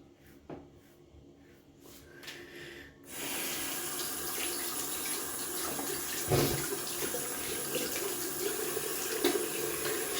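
A bathroom tap is turned on after a few faint knocks and then runs cold water steadily into a sink, a close, continuous hiss and splash with small clatters, for shaving.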